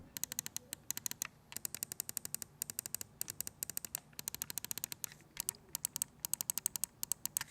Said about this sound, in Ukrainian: Всі вони, окрім нижньої, мають чіткий короткий клік без пре і пост-тревела.